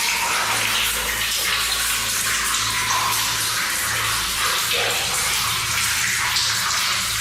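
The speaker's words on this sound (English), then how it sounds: "There's water dripping" Water runs and splashes steadily in an old mine tunnel, a continuous loud rushing wash with a low hum beneath it, no voices.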